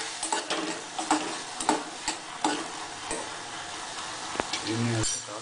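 Sweet corn is stirred and tossed in a hot pan with salt and pepper seasoning, giving irregular scraping clinks and light sizzling, with a louder sizzle burst near the end.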